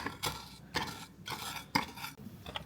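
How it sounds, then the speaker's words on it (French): Sugar is broken up for iced coffee: five evenly spaced crunchy, grinding bursts roughly half a second apart, close and moderately loud, with no voices. "Et vous cassez le sucre."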